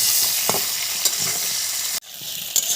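Bottle gourd pieces fry briefly in oil, a bright steady sizzle broken by several quick stirring scrapes, with a sudden dip as the pan is moved near the end.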